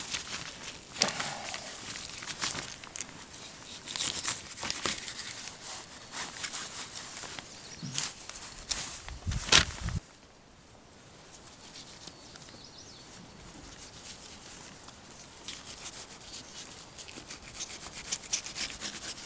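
A fillet knife trimming the belly meat off a walleye makes repeated close scraping, rubbing strokes for about ten seconds, then falls to a quieter stretch of soft scraping and light handling.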